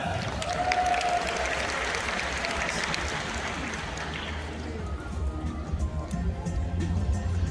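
Crowd applause at a Georgia Aquarium dolphin show swells for about four seconds, then thins into a low murmur of crowd noise and rumbling background sound.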